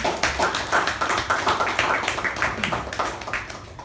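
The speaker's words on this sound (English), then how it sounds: "can we have a huge round of applause for the President?" A meeting audience applauds the President with dense, steady clapping from many hands, loud and close, holding for about four seconds with no talk over it.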